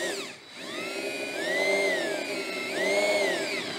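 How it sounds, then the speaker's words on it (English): Power drill driving a very dull hole saw to cut a one- or two-inch hole for a battery charger plug-in, a steady whining motor with speed shifting as it bites, close and continuous. "this is a very, very dull hole saw"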